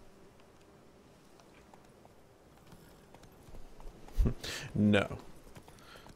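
Roach the horse galloping in Witcher 3, two quick bursts of hoofbeats near the end after a quiet stretch, with a brief spoken word from a player.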